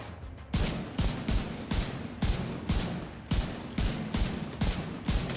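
Gunfire in Tom Clancy's The Division 2: loud, evenly spaced heavy rifle shots, about a dozen rhythmic cracks each with a reverberant tail, close and dominant with no talk over them.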